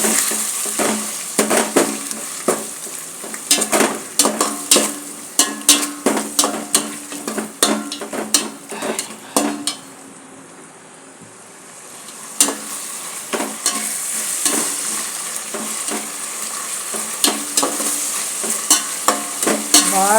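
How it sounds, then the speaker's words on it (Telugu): Ginger garlic paste roasting in hot oil for dum biryani, a loud close sizzle with a brisk run of spoon-on-pot scrapes and clinks, dropping to a quieter steady fry for a couple of seconds before the stirring resumes. "అల్లం వెల్లుల్లి పేస్ట్ వేసేస్తానండి. బాగా రోస్ట్ అవుతుంది."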